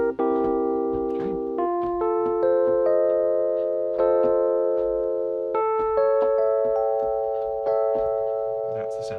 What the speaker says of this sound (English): That's the sound of the dominant 7 chord.